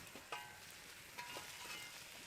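Quiet, close sizzling of food over a fire, with a few faint crackles and pops scattered through the steady hiss.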